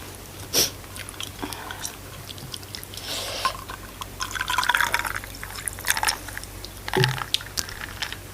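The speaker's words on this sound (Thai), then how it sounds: "ขอล้างปากแป๊บนึงนะคะ" Water swished and sloshed in the mouth during a seafood meal of steamed blue crab, grilled river prawns and fresh oysters, with scattered wet liquid sounds and a gulp.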